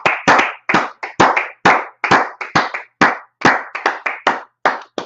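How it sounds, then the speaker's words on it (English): A small group claps in quick, uneven bursts of sharp hand claps, close and loud, with brief gaps between volleys and no voices. "let's clap it up"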